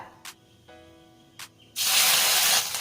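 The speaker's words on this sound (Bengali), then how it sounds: "এবারে আদা আর কাঁচা লঙ্কা তেলে একটু ভেজে নিচ্ছি" Ginger paste hitting hot oil in a pan sets off a sudden loud, broad sizzle that holds steady after a few quiet clicks and a faint hum, with no talk.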